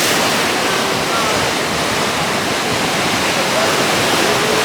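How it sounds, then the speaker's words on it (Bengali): Rough evening sea at Kuakata beach at high tide, the surf roaring in a loud, unbroken wash of noise with no clear pauses. "আর সমুদ্রের গর্জনও অনেক"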